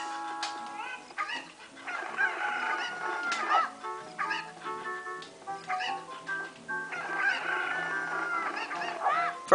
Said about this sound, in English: So I'm gonna toss all the cuckoos over here.